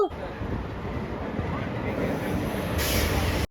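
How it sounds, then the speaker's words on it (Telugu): The Narsapur–Arunachalam special train rumbles steadily as it rolls into a platform on its inaugural run, a continuous roar with a gusty, wind-like hiss. "అరుణాచలం స్పెషల్ ట్రైన్ అయితే ప్లాట్ఫామ్ మీదకి అయితే తీసుకొచ్చేస్తున్నారు"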